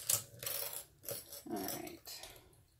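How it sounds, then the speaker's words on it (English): Sewing threads on a crossbody bag are trimmed with scissors at the end of a seam, giving a few close, short snips and metallic clicks separated by brief pauses. "trim those threads"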